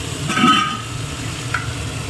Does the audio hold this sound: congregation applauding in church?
no